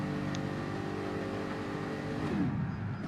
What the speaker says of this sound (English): I can hear that McLaren revving.